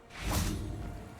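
The Revelio spell cast in Hogwarts Legacy: a single soft magical whoosh that swells and fades over about a second, faint and alone.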